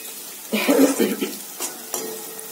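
Thinly sliced green chillies sizzle and frying in a pan for cauliflower manchurian, with a spoon stirring and scraping in short bursts and a brief clink of utensils.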